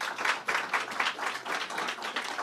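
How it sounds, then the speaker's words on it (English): A crowd applauds steadily at a New York governor's press event, many hands clapping in a dense, even patter at moderate distance, with no voices on top. "I want to give her a round of applause for joining us here today"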